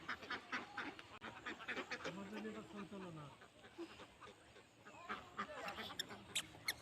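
A flock of domestic ducks gathered outdoors in the evening quacks together in a dense, continuous chorus of short calls, with faint voices talking in the background.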